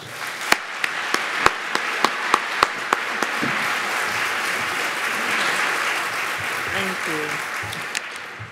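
An audience applauds to welcome Secretary Marybel Batjer at the Government Transformation 2015 event, opening with a handful of sharp, separate claps before it swells into steady, broad clapping that lasts for several seconds and then fades. Faint talk runs underneath.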